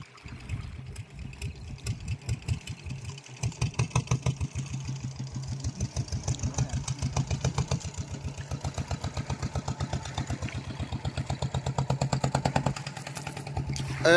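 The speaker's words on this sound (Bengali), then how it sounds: "বোট ছেড়ে চলেই যাচ্ছে দেখুন নৌকো বড় নৌকো মেশিন বসানো আছে" Motor engine of a large fishing boat in the Sundarbans chugs steadily in a fast, even rhythm as the boat pulls away, a loud mechanical thumping heard close by that holds constant throughout.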